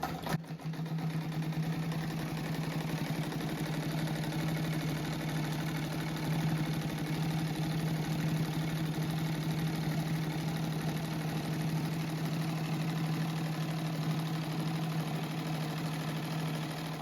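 A sewing machine runs steadily while stitching binding onto a fabric mat, a continuous close motor hum with no breaks.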